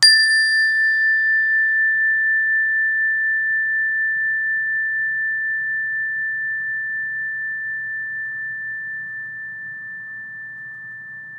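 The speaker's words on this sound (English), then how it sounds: "I will just bring the bell close to the kids next to me because it's still ringing" A mindfulness bell struck once rings out clearly, its pure sustained tone decaying slowly over about eleven seconds with faint upper overtones fading early, heard alone in a quiet room.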